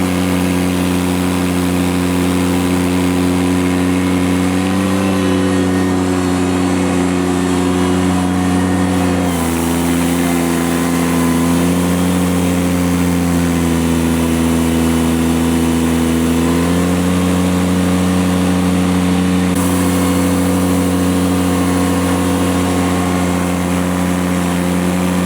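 A tractor engine runs steadily while clearing compacted snow and ice, a loud continuous drone with slight shifts in pitch as the load changes, heard alone and close.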